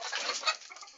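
Australorp and desi hens, with a rooster kept nearby, give a brief, faint burst of clucking calls that fades within about a second.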